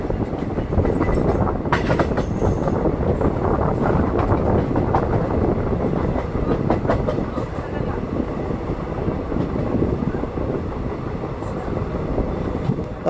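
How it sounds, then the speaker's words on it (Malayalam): Passenger train on the Punalur to Nagercoil line running through Kochuveli railway station, a continuous loud rumble with rhythmic wheel clatter and wind buffeting throughout, heard from inside the moving train. "നമ്മുടെ ട്രെയിൻ ഇപ്പോൾ ഇതാ കൊച്ചുവേളി റെയിൽവേ സ്റ്റേഷൻ സ്കിപ്പ് ചെയ്തുകൊണ്ട് നിൽക്കുകയാണ്"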